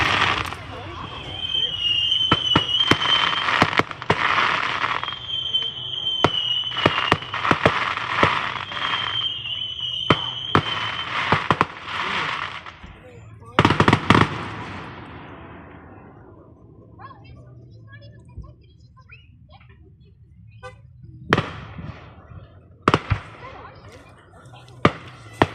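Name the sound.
fireworks exploding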